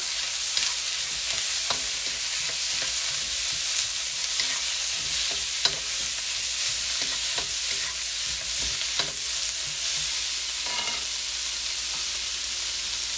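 Red onion stir-fries in a hot pan for chop suey, a steady, close hiss of sizzling oil with scattered scraping and clicking from stirring, heard alone without talk.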